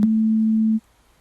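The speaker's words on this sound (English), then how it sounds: "So if we go way down a pitch, you can hear that." A pure, steady low sine-wave bass tone from a Synthstrom Deluge synthesizer holds for under a second at constant level, then cuts off abruptly into near silence.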